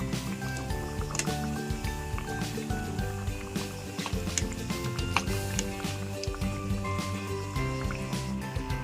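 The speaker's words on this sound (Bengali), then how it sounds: "হালকা আঁচে ভেজে নিচ্ছি" Semolina biscuits fry in oil over low heat, a dense steady bubbling and crackling sizzle that stays close and fairly loud throughout with no pauses.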